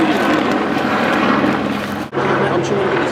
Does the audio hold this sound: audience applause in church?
no